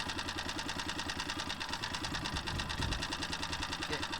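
A small early chain-drive vehicle engine of roughly 1¼ to 1½ horsepower runs steadily after being started, giving off a fast, even, mechanical chatter close by, with no talk over it.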